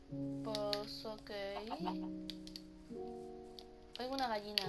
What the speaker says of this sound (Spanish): Oigo una gallina.